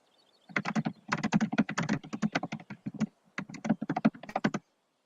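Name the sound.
computer keyboard typing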